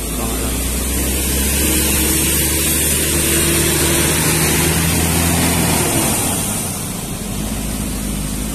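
A Makmur bus with a Trijaya Union body and 1526 engine idles at an arrival terminal, giving a loud, steady low engine rumble and broad hiss that holds throughout and eases slightly near the end.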